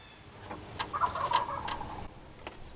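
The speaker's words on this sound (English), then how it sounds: "you hear those turkeys?" Distant wild turkeys gobble in a brief rattling burst outdoors, faint but clear over a quiet background with a few scattered clicks.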